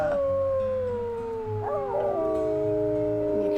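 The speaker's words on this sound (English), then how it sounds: "Let's maybe do a howl just to try and make sure" A wolf howl from the WolfQuest video game: a long, loud, sustained wavering tone that bends and slides in pitch, with layered howling voices of the pack over a steady game backdrop.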